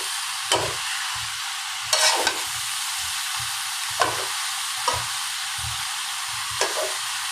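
Taro stolons go into a pan where potato and prawns are frying, and a steady low sizzle continues under repeated stirring scrapes every second or so, with no voices.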